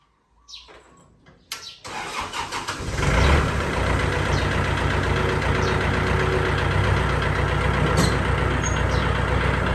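A Kubota L4708 tractor's engine cranks after some quiet handling noises, catches and settles into a steady, loud diesel idle that runs to the end, with faint birdsong in the background.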